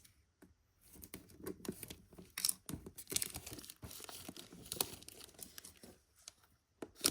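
Close, quiet rustling and tearing of mystery box packaging, opened with scissors, with crinkles and sharp snips, in irregular bursts, with no one talking.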